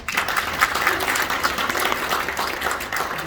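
An audience at a friendship and dialogue iftar dinner gives a warm round of applause, a full, continuous burst of many hands clapping close by.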